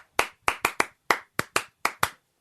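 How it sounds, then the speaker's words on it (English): Nine sharp hand claps land close by in a quick, uneven rhythm, clustered in pairs and singles over a couple of seconds, with no voices over them. "I think it might be nice to have a clap and response rule."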